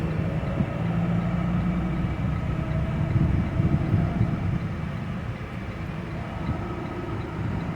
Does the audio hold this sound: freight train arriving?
yes